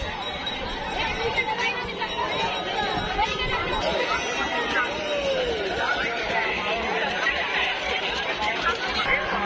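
Dense crowd chatter fills a busy outdoor Mahashivratri fair at midday, a steady babble of many voices close and far, with occasional laughter.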